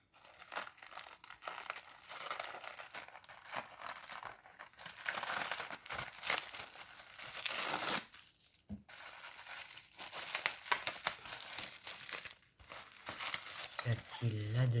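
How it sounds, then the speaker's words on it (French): Paper and plastic wrapping crinkle and tear steadily as a package holding ribbon and beads is unwrapped, close up, with someone talking over much of the rustling. "Qu'a-t-il là-dedans? Oh! Ce sont des perles."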